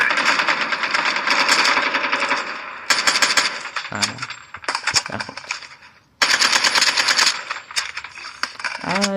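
Rapid gunfire bursts in a video game, loud and continuous, broken by a few short pauses and clicks, with shotgun shells being fired.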